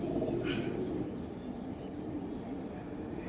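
A young male pigeon with golden eyes coos softly and low, a steady murmuring call close by against a faint background hiss, with no one speaking.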